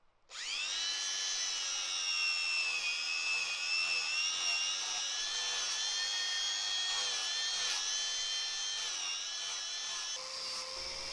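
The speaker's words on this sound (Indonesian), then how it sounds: "kita haluskan menggunakan mesin amplas" An electric sander runs continuously on wood with a steady high whine and a rough grinding texture, starting abruptly and keeping up for about ten seconds.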